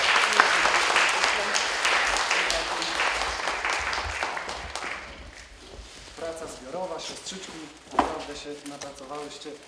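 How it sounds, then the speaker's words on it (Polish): Applause at a children's preschool competition awards ceremony, a burst of clapping that fades after about five seconds, followed by a voice speaking over the room. "Brawa, brawa, brawa"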